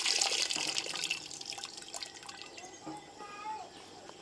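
Tender coconut water is poured into castor oil boiling over a neem-wood fire, a loud splashing, sizzling rush at the start that settles into a softer crackling bubble.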